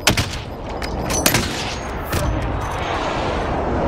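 Gunfire in the Warzone video game: a burst of sharp shots at the start, a louder crack near the middle and another around two seconds, over a steady background rumble, with no talk.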